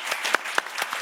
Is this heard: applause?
yes